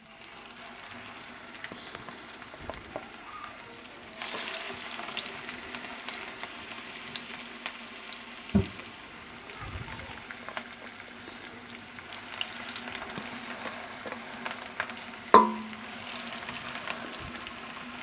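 Chapli kababs sizzle in a pan over a medium flame, a steady, quiet crackle that runs throughout with a few sharp clinks and knocks, and no voices.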